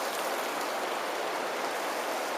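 River water is forced through a narrow rock canyon about ten feet wide in Zion Narrows, making a dense, steady rushing roar that stays even and unbroken throughout.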